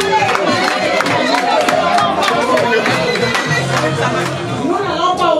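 A crowd cheers and claps for Pélagie at an evening women's goddess gala, a dense, steady roar of voices, whoops and applause filling the whole stretch at close range.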